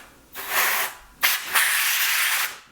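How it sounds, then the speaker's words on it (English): Compressed air sprays over a computer keyboard in two loud hissing bursts, the second longer, separated by a short pause. "So I do have compressed air."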